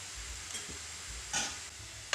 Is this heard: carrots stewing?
yes